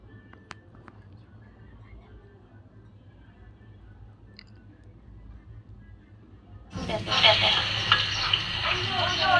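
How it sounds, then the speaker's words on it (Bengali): Beef and potatoes being stir-fried in a pan for beef bhuna: a quiet kitchen for several seconds, then a sudden loud, steady sizzle with stirring takes over to the end. "মাংস আর আলুটা আমি আবার একটু ভালোভাবে কষিয়ে নেব।"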